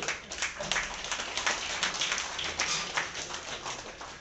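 Crowd at an Indian motorcycle club meet-up claps for the riders, a dense, ragged patter of many hands that swells and dips across the whole stretch, slightly muffled and with no speech over it.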